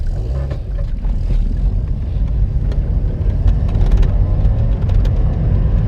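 Engine noise from a car held in a steady loud drone during a handbrake-turn drift exercise at a stunt-driving lesson, with small scrapes and knocks over the rumble and no talking.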